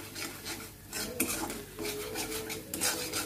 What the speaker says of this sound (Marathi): आता सर्व जे मसाले आहेत ते आपल्याला व्यवस्थित भाजायचे आहे